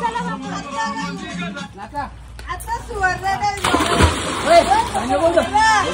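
Water splashes at a farmhouse pool while family members chatter and call out, bursts of splashing rising over the voices, close and lively.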